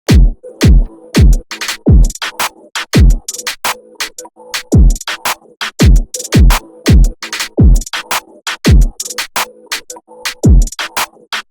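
Deep, booming 808 bass drum hits with pitch-dropping tails repeat in a syncopated pattern, punchy and loud throughout with no voices.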